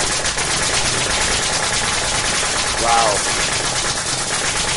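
Rapid mechanical firing of a nail gun shooting nails, a dense machine-like rattle running throughout with one brief brighter burst near the three-second mark, people speaking briefly over it.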